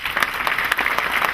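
Crowd at an Urdu writers society annual award night claps steadily, a brief dense burst of applause with no talking.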